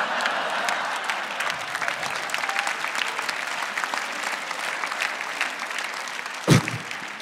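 Audience at a stand-up comedy show claps in a dense, sustained round of applause that stays steady throughout, with one sharp louder thump near the end.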